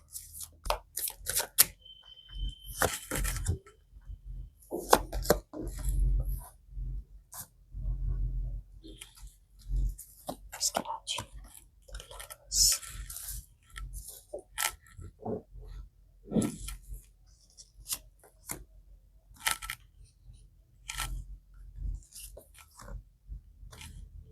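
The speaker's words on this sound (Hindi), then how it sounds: "यहाँ पे मैं कर लेती हूँ अपने कार्ड्स को शफल।" A deck of tarot cards is shuffled by hand, giving soft, irregular riffling and clicking bursts that come and go quietly for over twenty seconds.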